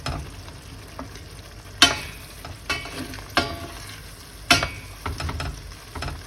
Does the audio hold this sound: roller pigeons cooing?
no